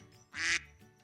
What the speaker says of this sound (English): Alexander's mother quacked and quacked